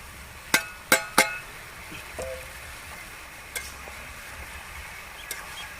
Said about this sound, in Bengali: পাঁচ মিনিটের মতন আমি ভালো করে কষিয়ে নেবো